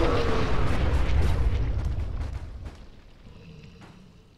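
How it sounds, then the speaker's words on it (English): Mini nuke set off by super mutant suiciders in a modded Fallout 4 video game: a loud, rumbling blast close by that rolls on and slowly fades over several seconds. "They run up at you with a mini nuke in their hands, and once they get close, they slam it down to the ground, kill themselves"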